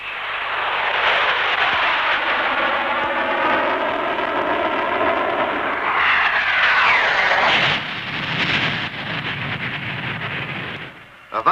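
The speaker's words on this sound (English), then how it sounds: "The Royal Navy's Buccaneer, which has just come into operational service," A Royal Navy Blackburn Buccaneer jet flies past at a 1960s Farnborough airshow, a loud, sustained engine roar that swells and shifts in tone as it passes.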